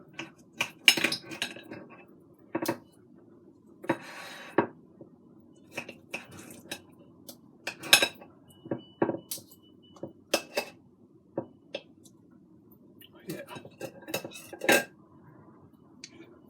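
A knife and fork work through an air-fried lemon pepper ribeye steak on a plate, with a series of sharp clinks and scrapes of metal on the dish spaced out over a quiet background.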